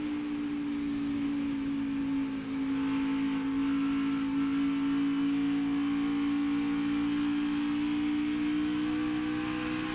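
A NASCAR Xfinity Series race car in the Ford EcoBoost 300 powers out of a corner, its engine holding a steady, loud, sustained drone throughout with only a slight dip partway through.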